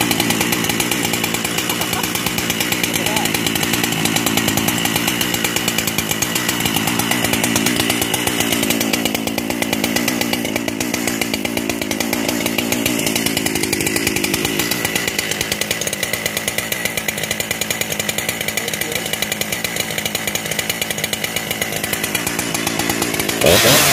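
Husqvarna 394XP chainsaw running steadily after a rebuild, a loud, close, continuous two-stroke drone with a slight shift in pitch partway through and no talk over it.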